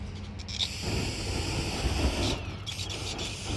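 Fuel sprayed onto a small outdoor fire of a cardboard box and wood to get it burning, giving a steady, close, rough hiss with faint crackling underneath for several seconds.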